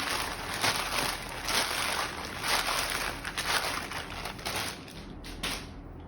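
Tarot cards shuffled close by in a steady run of soft riffling and flapping bursts that rise and fall in quick rhythm, fading slightly toward the end, with no talking.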